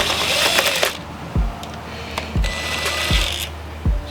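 A ratchet wrench turns out 8mm bolts holding the oil pump on a Ford Coyote engine short block, giving fast, close ratcheting clicks broken by four distinct metallic clunks at steady intervals.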